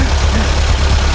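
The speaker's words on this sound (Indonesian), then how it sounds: "Nah, ini mesin istimewa ya, turbo." A turbocharged engine in a 1983 Suzuki Jimny runs steadily at close range, a dense low rumble with an even, continuous texture across the short stretch.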